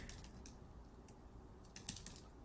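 Quiet typing on a computer keyboard, a few soft, scattered key clicks over low room hiss, no talking.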